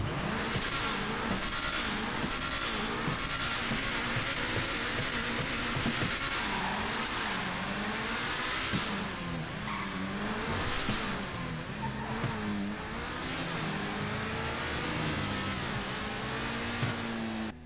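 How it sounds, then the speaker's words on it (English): The Pegassi Infernus supercar in GTA Online revs and accelerates with a continuous loud engine roar, the pitch sweeping up and down through repeated gear changes over about eighteen seconds, with no talk. "Generic Pegassi sound effect 1 is in full swing for the Infernus for sure"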